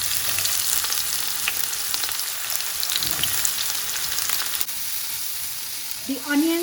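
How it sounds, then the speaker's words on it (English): Chopped onions frying in a couple of tablespoons of oil for kathi rolls, a steady dense sizzle with brief stirring clatter throughout, close and fairly loud, ending with a short clink of utensil against pan. "I'm going to add all these chopped onions to this and cook until golden."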